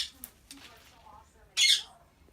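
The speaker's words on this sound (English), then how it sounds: "You're a funny bird, Yoshi." A parrot bathing in a glass of water gives a few faint chirps, then one sharp, loud squawk close by, with light splashing and rustling around it.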